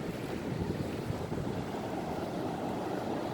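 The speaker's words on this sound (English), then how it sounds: "The waves." Ocean waves on a long Philippine beach, a continuous close surf roar mixed with buffeting wind against the microphone, steady and fairly loud with no talk.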